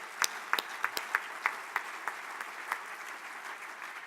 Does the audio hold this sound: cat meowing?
no